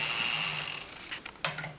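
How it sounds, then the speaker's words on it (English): A 6 mm Allen key works the crank bolts on a bicycle, giving a few quiet metallic clicks and ratcheting taps after a brief high-pitched ring. "And there are 2 bolts on this crank which you're going to want to undo."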